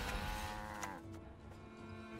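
Cows moo from the Gwent card game, a drawn-out bovine low blended into busy game audio and sound effects, fairly loud with no talking.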